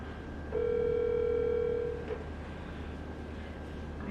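A phone call rings out while calling someone back, a single steady electronic ring tone lasting about a second and a half, moderately close, then fading into a quiet background hum with no talk.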